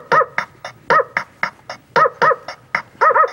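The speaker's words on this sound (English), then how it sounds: "Let the dog bark, talk to you." A dog barks again and again in short, sharp bursts, a dozen or so in quick succession, close and loud with no talking.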